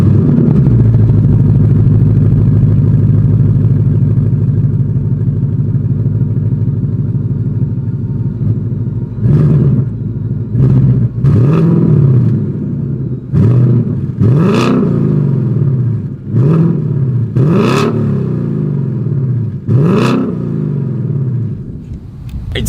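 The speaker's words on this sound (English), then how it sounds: "Is always here is that exhaust clip." A 2023 Ford Mustang GT V8 with active valve exhaust idles with a deep steady rumble, then gets blipped in a series of about eight sharp, loud revs that rise and fall, close by and with no talking.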